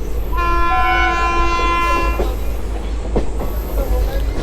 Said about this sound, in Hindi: कोई ट्रेन आ रही है।